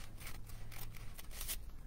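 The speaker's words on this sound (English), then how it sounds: "You're going to cut a triangle out of your coffee filter like this." Scissors snip a triangle out of a folded paper coffee filter in a few quick, close, soft cuts, with faint room noise and no speech.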